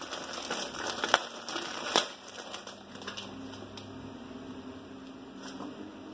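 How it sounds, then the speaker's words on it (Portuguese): Plastic and cardboard packaging of a toy VM truck being unwrapped, with soft crinkling and rustling at close range, two sharper crackles early on, then a steady low rustle. "Então nós vai desembalar aqui o nosso VM, né? Começa a desembalar ele aí."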